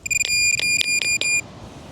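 A metal detector sounds over a buried metal plate resembling a manhole cover, giving five sharp, loud tonal beeps in quick even succession before cutting off to quiet.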